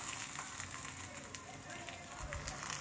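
Luchi fry in a small amount of oil, giving a faint, soft crackling sizzle with scattered pops that runs steadily throughout.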